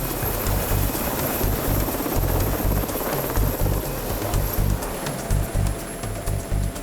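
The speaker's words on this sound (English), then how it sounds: "Just like Dr. Davis's work in Afghanistan, it often involves helicopters, working with the Scottish Air Ambulance and rescue services." Air ambulance rescue helicopter, loud rotor thudding in a fast steady pulse with a constant turbine whine, close and unbroken throughout.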